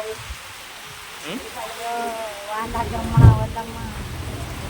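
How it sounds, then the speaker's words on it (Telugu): Heavy monsoon rain pours down on a roadside, swelling into a dense, steady roar partway through while people talk close by. "నిమిషం నిమిషం పెరిగిపోతుంది వర్షం"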